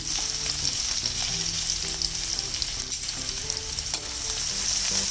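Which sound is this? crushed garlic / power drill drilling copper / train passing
crushed garlic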